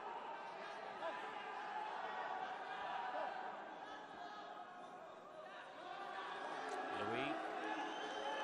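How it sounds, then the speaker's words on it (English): Crowd noise fills an Olympic qualifying boxing bout, a steady roar of cheering and chatter from the stands with a commentator talking over it throughout. "you can hear the crowd cheering"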